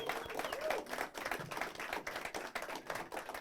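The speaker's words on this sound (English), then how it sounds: "Yes, you can clap now." An audience at a retirement celebration applauds, quick scattered hand claps at fairly low volume, close and crisp, with a brief voice mixed in.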